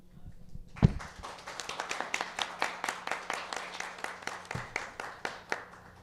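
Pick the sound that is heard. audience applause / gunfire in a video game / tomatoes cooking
audience applause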